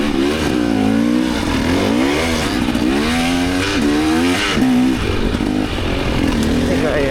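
A KTM 300xcw two-stroke dirt bike on a northern Arizona single-track trail, its engine revving hard and loud with shifting pitch as the worn rear tire spins out, continuous throughout.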